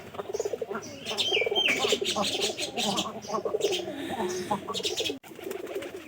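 Giribaz pigeons, including a cross-coin and a jal Giribaz, coo steadily at close range, a throaty rolling murmur layered with chirps and small flutters, with a brief drop near the end.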